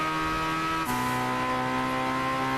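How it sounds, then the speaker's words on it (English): Turbocharged car engine in the Gran Turismo 6 racing game, a sustained loud droning note with faint tire squeal that drops sharply in pitch at a gear change, then holds steady; no voices. "I'm just listening to the sound of that turbo"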